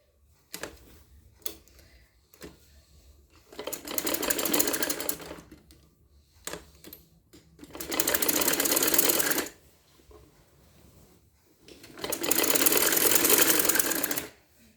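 A sewing machine double-stitches a piped neckline in repeated bursts of fast, rattling stitching, each lasting a couple of seconds, separated by quiet pauses with light clicks and fabric handling.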